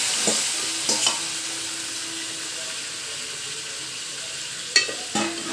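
Boiled goat mutton curry being stirred in a pan, with a steady low sizzle and a few scraping clacks of the spoon against the metal near the start and end.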